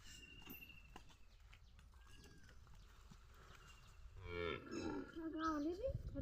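Water buffaloes lowing close by, several deep drawn-out calls over the last two seconds after a quiet stretch of outdoor background noise, in a muddy village after overnight rain.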